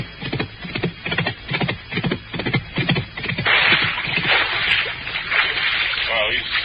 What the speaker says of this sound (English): The horse just bucked and threw him into the swamp here at Hayes Meadow.